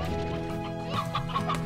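Chickens cluck continuously in the video game Slime Rancher, a steady close murmur of fowl sounds with light game music underneath.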